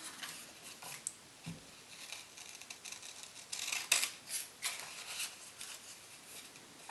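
Scissors snip out a small paper Christmas Tardis beacon in a quiet room, a series of soft, close, crisp cuts and paper rustles spread unevenly, with a denser burst of snipping midway.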